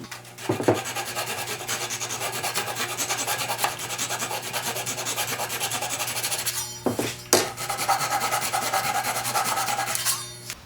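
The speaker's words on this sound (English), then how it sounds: "I trim the dowels flush now so that I can lay the base back down" A saw rasps steadily back and forth, trimming wooden dowels flush on a farmhouse trestle table base, with continuous close scraping strokes broken by a few sharp knocks and pauses around the middle.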